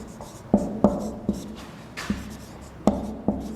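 Chalk or marker strokes on a board while a Hindi literature example is written out, a handful of short taps and scrapes spaced irregularly, close and fairly quiet against a faint room background.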